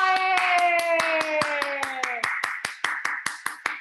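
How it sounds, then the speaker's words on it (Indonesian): Children and adults in a kids' class clap their hands as applause welcoming children who have joined, a fast patter of many claps that thins out into separate sharp claps while a sustained sung or spoken tone fades beneath. "kita beri aplaus untuk teman-teman kita"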